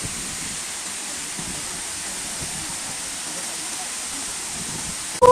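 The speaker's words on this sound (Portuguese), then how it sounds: "Cachoeira Véu de Noiva, galera. Itaitu." Cachoeira Véu de Noiva waterfall in Itaitu roars as a steady, dense rush of water, loud and unbroken for the whole stretch, with a brief sharper sound at the very end.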